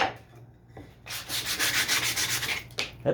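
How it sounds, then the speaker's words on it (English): Wood being sanded by hand to knock off raised fibres, a steady scratchy rubbing that starts after a quiet second and runs close and continuous with a brief pause near the end. "We don't want it smooth. Just gonna knock off some of those raspy old hairs."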